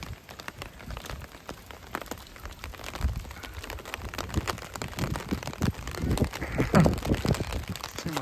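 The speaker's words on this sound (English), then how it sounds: "too much rain, it'll just get on the lens." Steady rain falls on surfaces along a canal quay in Amsterdam, a dense patter of drops with gusts of wind picking up toward the end; no one speaks.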